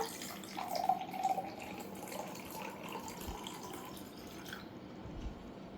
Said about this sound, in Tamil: இந்த கண்ணாடி கிளாஸ் எடுத்துக்கின்னு இதில் என்ன பண்ணிக்கோங்க, 3/4 தெரியும்ல, முக்காவாசி அளவு மட்டும் தண்ணி ஊற்றிக்கோங்க